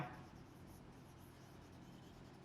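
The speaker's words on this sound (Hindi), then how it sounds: "चलो भाई, यहां पे लिखते हैं" Writing on a board during a maths class on linear equations, a soft continuous scratching of strokes, faint and close, with no speech over it.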